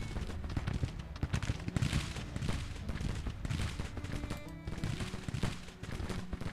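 Civil War troops fire massed volleys in Grand Tactician: The Civil War: a dense, crackling roll of musketry with irregular bursts and heavier booms, sustained and fairly loud throughout, with no speech.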